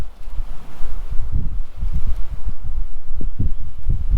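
Wind gusting outdoors on the water during a fishing trip, a steady rumbling buffet against the microphone with irregular low thumps, fairly loud and continuous throughout, with no voices.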